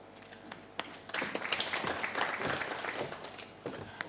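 An audience applauds the chief guests at a formal ceremony: dense, steady clapping swells after a single early clap, holds for a couple of seconds, then fades.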